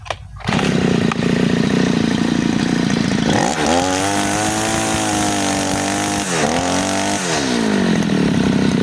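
A side-mounted grass cutter's small two-stroke engine, new from the store and badly tuned, runs loudly and close, idling rough then revving up and dropping back a couple of times with a buzzing, uneven tone.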